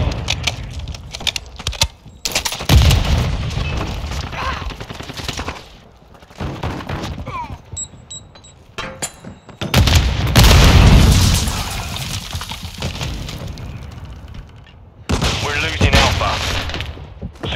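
Gunfire and a flash grenade in a Call of Duty Modern Warfare 2 Domination match on Shoot House, loud bursts of rapid shots and booms alternating with quieter gaps, with game voice announcements and a brief electronic chirp.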